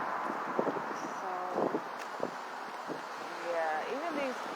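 Wind gusting outdoors on a cold, windy street in Williamsburg, Brooklyn, a steady low rushing noise under the mic with brief thumps and faint distant street sounds, while a person talks over it.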